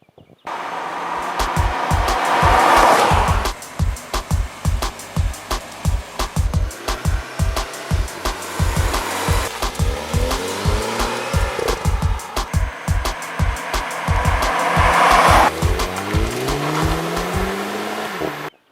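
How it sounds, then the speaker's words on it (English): A 2010 Volkswagen GTI hot hatch drives in Atlanta, Georgia, its engine revving and shifting in repeated surges, with loud rising sweeps between bursts of clattering noise, close and alone. "I'm here in Atlanta, Georgia to drive the all-new 2010 Volkswagen GTI, the latest version of Volkswagen's iconic hot hatch"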